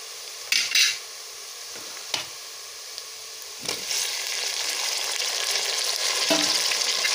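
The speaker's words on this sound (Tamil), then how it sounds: "இப்போ தக்காளி சேர்த்து வதக்கி எடுத்துக்கலாம்" Tomatoes sauté in a pan for vegetable rice, starting quiet with a few metallic clanks and scrapes of a spoon before a steady hissing sizzle builds and fills the rest.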